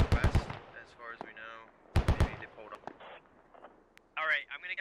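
Close rifle fire in the tactical shooter Squad as a fire team makes contact: two quick bursts of rapid shots a couple of seconds apart, with someone talking between and after them.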